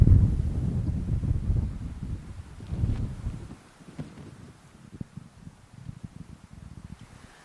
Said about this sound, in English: Couple wind gusts really picking up. Can hear it and see it in the trees and the movement.